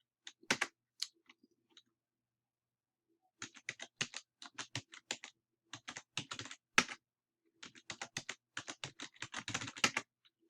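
Fingers tap out a sudo passwd command on a computer keyboard in quiet, irregular bursts of clicking keystrokes, with a pause near the start before steadier typing resumes.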